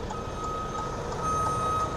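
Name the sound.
truck reversing with backup beeps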